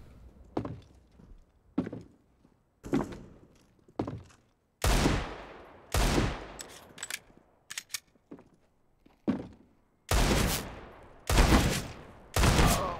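Desert Eagle pistol shots in a video game, a dozen or so sharp, loud single reports fired at irregular intervals, some spaced about a second apart, others in quick pairs, with ringing decay tails.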